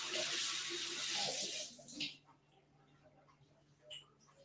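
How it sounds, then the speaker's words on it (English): Tap water running briefly while a cocktail jigger is rinsed at a sink, a steady hiss that cuts off after two seconds, followed by faint clinks and room noise. "So you got rinse my jigger out."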